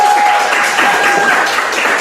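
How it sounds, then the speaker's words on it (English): Live audience applause at an HR summer school event, continuous close clapping filling the moment with an even, dense texture and a faint steady tone beneath. "Do we get a live attendance applause?"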